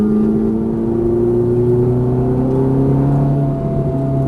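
A Ferrari F430 engine accelerates hard on a track, its pitch climbing steadily and smoothly, loud and close for several seconds without voices.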